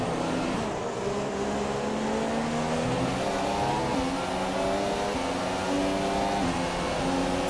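A Ferrari Formula 1 car in a racing video game at Suzuka International Circuit, Japan, its loud, high-pitched engine whine holding steady with stepping gear tones and no talk.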